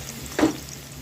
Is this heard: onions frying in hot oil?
yes